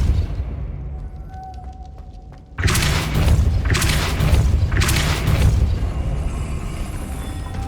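Depulso spell blasts in the video game Hogwarts Legacy, a sudden heavy boom followed by rolling thumps and crackling bursts, loud and close, after a quiet lead-in.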